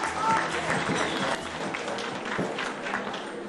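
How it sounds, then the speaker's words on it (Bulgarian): An audience at a ball in Sofia claps steadily, with a broad wash of applause at moderate distance and faint voices mixed in. "Аплодисменти"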